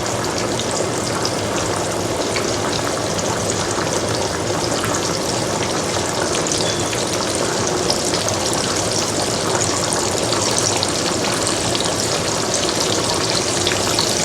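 Onions saute in a pan for Southern smothered pork chops, giving a loud, continuous, even sizzle and hiss that holds steady throughout with no voices.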